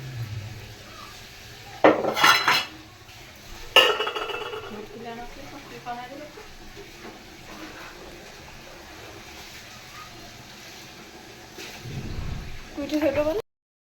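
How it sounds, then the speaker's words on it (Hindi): Kashmiri pink tea being whisked hard in a pot: sharp metallic clatters and scraping knocks, loudest in two bursts early on, then softer stirring, with a voice talking throughout. "अब हम इसे अच्छी तरह से फेंटेंगे और इसका कलर निकलेगा।"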